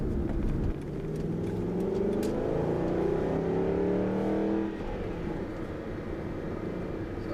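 A sports car, either a Porsche or an Aston Martin, accelerates steadily along a road with a rising engine note heard from inside. Near the end the engine eases off.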